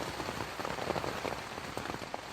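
Rain falls on a tent in a dense, steady patter of close drops drumming on the fabric, continuous and even with no voices.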